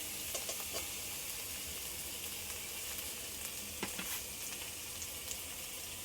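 Fish curry with torn green chilies sizzles steadily in a hot pan, a continuous close frying crackle with a few louder spits, with no speech.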